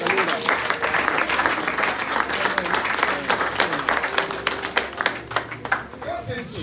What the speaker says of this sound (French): Est-ce que je peux applaudir pour la gloire de Dieu?